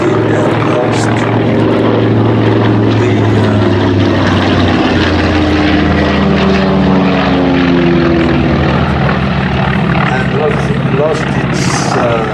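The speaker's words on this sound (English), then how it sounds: "The Wildcat was the naval fighters used by the US Navy in the Pacific" Grumman Wildcat, a US Navy fighter of the Pacific war, flies past at the Flying Legends airshow at Duxford, its propeller engine droning steadily and loudly throughout with a shifting pitch, while a commentator talks over it.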